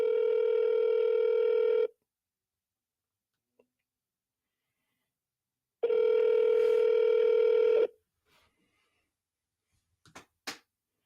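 Ringback tones from outbound sales calls, with two long steady electronic tones separated by silence, followed by faint clicks and brief blips near the end.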